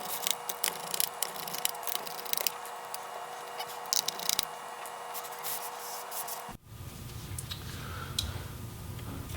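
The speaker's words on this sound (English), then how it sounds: "we'll go ahead and remove all of the remaining bottom case screws" Small screws come out of the bottom case of a Dell G7 7588 laptop, with a close, quiet string of sharp ticks and scratchy clicks, then a duller rustle after a brief pause.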